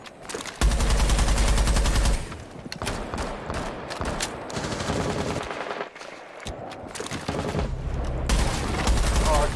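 Sustained automatic gunfire in Rainbow Six Siege, with loud, rapid bursts dominating the mix, pausing briefly and then resuming as rattling fire, with faint team chatter beneath.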